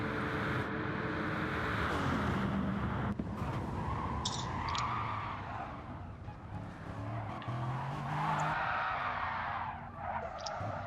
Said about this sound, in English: let's listen to those engines roar